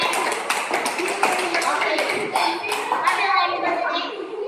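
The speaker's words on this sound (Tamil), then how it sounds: "கை தட்டுங்க." Children clapping their hands together in a classroom, a busy spread of overlapping claps that carries steadily through the whole stretch, with young voices mixed into the applause.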